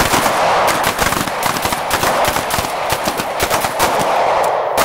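Rapid, loud pistol gunfire cracks in dense overlapping strings during a close retention shooting drill at an outdoor range in Nashville, with several shooters firing at once and no pause for nearly five seconds.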